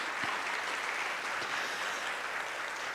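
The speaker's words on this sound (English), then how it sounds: "Please give all of those folks a round of applause as well." An audience at a school district presentation gives a round of applause, a steady, moderately quiet crackle of many hands clapping from a distance that lasts the whole moment with no talking.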